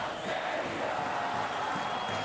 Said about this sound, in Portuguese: a torcida está cantando, a torcida está empolgada